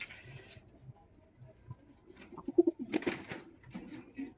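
Black Lotan tumbler pigeons offered for sale give soft, low coos in short bursts, close by, with light rustling and wing patter around them and no talk.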